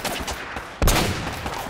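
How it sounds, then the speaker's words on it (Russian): Sniper rifle shots in the game Uncharted: Drake's Fortune ring out as sharp, loud cracks, a lighter volley early and one heavy blast near the middle that leaves a lingering echo. "Снайперская винтовка."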